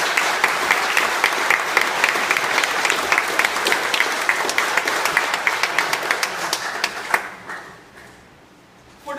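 Church congregation giving a big round of applause at a Sunday Mass for a centennial anniversary, loud crisp clapping that thins out and fades to quiet near the end.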